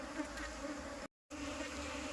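Aggressive Apis cerana bees drone in a dense, steady swarm buzz during a hive transfer, close and continuous apart from a brief silent gap midway.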